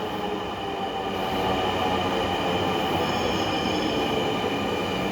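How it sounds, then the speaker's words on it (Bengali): A crowded last night train bound for Kamalapur pulling into a station, a steady loud rumble of rolling carriages with a sustained high metallic wheel squeal over it, and no voices. "ট্রেন আসছে"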